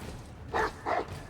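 Two quick barks from a dog in the Warhammer 40K Rogue Trader video game, evenly spaced and moderately loud over a low background murmur, with no talk.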